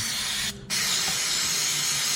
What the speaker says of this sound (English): I use a little bit of brake cleaner. I just spray it on,